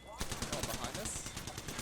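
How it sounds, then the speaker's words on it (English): Rapid automatic gunfire in the video game Apex Legends, a fast burst of close, repeated shots in a steady rhythm lasting nearly two seconds, with no voices over it. "They're shooting at me"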